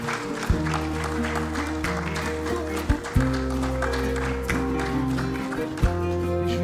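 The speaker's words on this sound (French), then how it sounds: "Sous vos applaudissements." Audience applause at a financial market awards ceremony as a commemorative plaque is presented, steady clapping under sustained musical tones, with brief louder accents.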